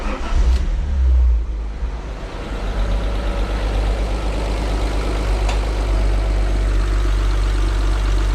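An Alfa Romeo 147 GTA engine with a faulty airflow meter and air leaks idles in a steady, close, deep rumble, with a brief rise in revs near the start and no talking.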